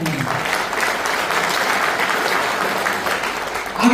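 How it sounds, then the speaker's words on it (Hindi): An indoor audience at a business meeting claps in sustained, dense applause, loud and even for several seconds, with a faint voice underneath. "सर के लिए एक बार शानदार ताली चाहूंगा।"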